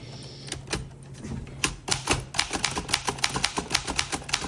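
A 1922 Remington Portable typewriter is typed on close up: sharp, fairly loud key strikes in an uneven, quickening rhythm, some landing in quick runs, with no voices.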